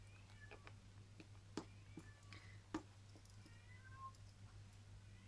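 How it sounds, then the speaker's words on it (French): A female house cat in heat meows faintly in the background of a quiet room, a few thin, drawn-out cries over a steady low hum and small clicks. "Si vous entendez miauler derrière, c'est mon chat."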